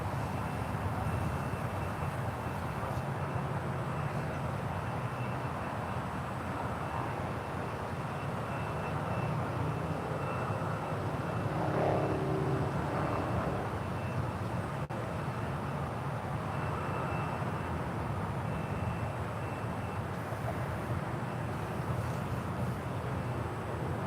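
An airplane departing from runway 1 right at SFO on a windy day, a steady broadband engine roar sustained throughout, fairly loud and unbroken, with no voices.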